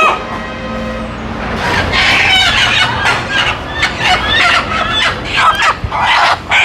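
Native country chickens cluck and crow loudly and close by, overlapping calls rising and falling in quick bursts with no pause and no talking.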